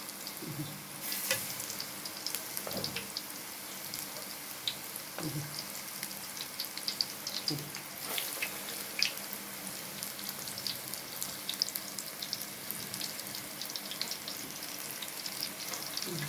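Cauliflower frying in hot oil in an Egyptian home kitchen, with a continuous soft sizzle and bubbling, plus occasional clinks and stirring taps, quiet and close.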